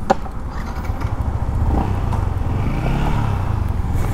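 A Yamaha MT15 motorcycle pulls away, its engine note rising from a low idle into a steady, loud rumble as it rides off close by, with no voices.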